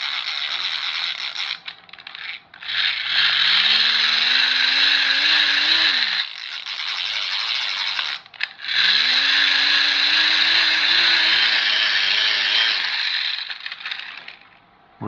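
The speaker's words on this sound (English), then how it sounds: "the propeller or the fan keeps going" A child's hand-cranked toy fan whirs in two long stretches, its motor pitch climbing as the propeller spins up, with a metallic mechanical hum and brief pauses between runs; no one talks.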